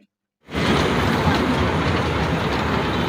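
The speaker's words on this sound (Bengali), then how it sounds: "তো ট্রেনটা ছুটে চলেছে" An amusement park train at Dubai Fun City rumbles along steadily with a dense, continuous clatter after a short silent start, loud and close, with no voices.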